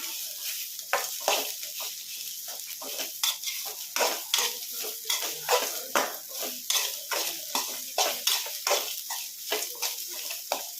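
Two tomatoes frying in a pan for hotel-style keema sambar, a soft sizzle under repeated rhythmic scraping and clinks of a spoon stirring against the metal pan, close and moderately quiet, no talk.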